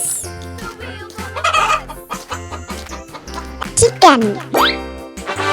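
A chicken clucks in short bursts over bouncy children's music with a voice, set against a farm animal toy diorama.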